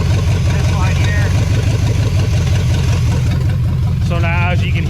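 A Chevy Nova engine idles steadily with a loud, low, even rumble throughout, as someone talks over it near the end.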